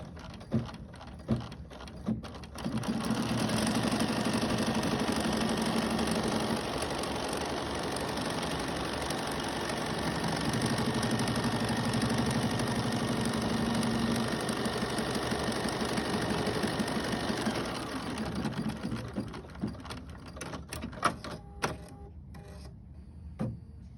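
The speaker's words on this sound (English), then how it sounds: "allow the machine, it's going to run and tack down all of this loose fabric on the edges" Computerized embroidery sewing machine stitching in the hoop, tacking down loose fabric edges and quilting a block, a steady mechanical whirr that runs continuously for about twenty seconds before stopping, with some handling clicks around it.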